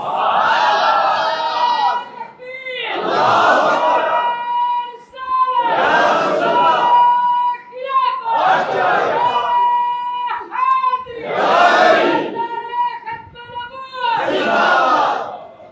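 A large religious gathering of worshippers chanting slogans in unison, call-and-response bursts roughly every two seconds, loud and massed, with a leading voice between the crowd's shouts.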